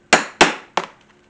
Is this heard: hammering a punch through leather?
yes